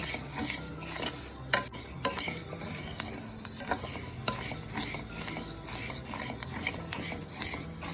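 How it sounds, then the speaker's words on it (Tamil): Black kavuni rice dry-roasting in a pan, a steady shuffle of grains with frequent scraping strokes of a spatula and light clinks against the metal, close and continuous with no voices. "நம்ம கருப்பு கவுனி அரிசியை நல்லா ரோஸ்ட் பண்ணிக்கிறோம்"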